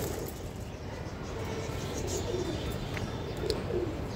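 A pair of light-coloured racer pigeons coos softly, a few low murmuring coos rising over steady background hiss.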